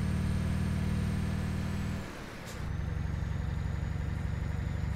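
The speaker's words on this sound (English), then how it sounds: "This truck sounds really good." Scania truck engine in Euro Truck Simulator 2, hauling a heavy load on Michelin tires, a loud low droning rumble that briefly drops during a gear change, then resumes steadily at a similar pitch.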